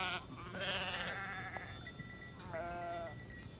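Navajo-herded sheep bleat in several wavering calls, two main bursts with overlapping voices, against a steady low rumble of outdoor noise.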